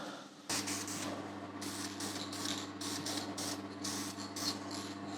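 Bursts of spray-paint spraying onto the back of a scratch-built guitar hiss in short pulses over a steady low mechanical hum, like a spray booth extraction fan running throughout.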